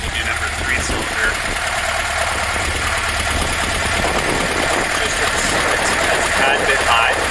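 A 1966 Porsche 912 engine idling while its Solex carburetors are synced, a loud, steady, close rumble with even throbbing, and a voice speaking over it.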